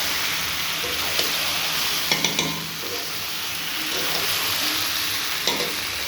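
Chicken kosha with spices and a pinch of sugar frying in a pan, a constant close sizzle with spoon scrapes and clinks against the metal as it is stirred.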